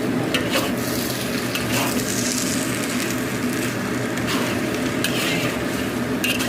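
Cooked vegetarian vermicelli stirred and tossed in a hot pan, a continuous close sizzle with scraping spatula strokes and occasional clinks against the pan, loud and steady throughout, no voices.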